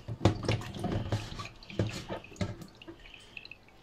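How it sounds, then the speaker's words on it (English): A kitchen tap runs in a video game, water splashing into a sink in uneven bursts and trickles that come close and fairly loud, then thin out toward the end, with no voices. "Tap, turn on. Good tap. Keep on washing that."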